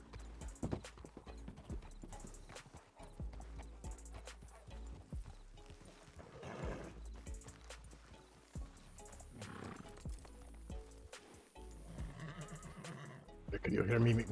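Horse hooves clip-clopping and a horse neighing in the Red Dead western video game, steady hoofbeats running through the whole stretch under ongoing talk, with a louder burst near the end.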